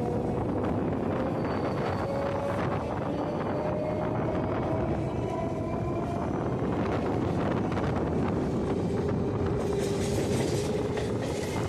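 A local commuter train rumbles steadily leaving Dum Dum station, wind buffeting the microphone, a continuous rolling drone with faint squeals, heard from on board.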